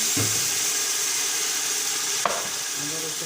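Ginger and garlic frying in a pan with biryani masala and gram flour spice, a steady close sizzle and hiss with a brief stirring clatter midway, no one talking.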